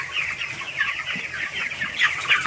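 A large flock of about 2,100 chickens on a poultry farm clucking and squawking together in a steady, busy chorus, close and continuous with no talking.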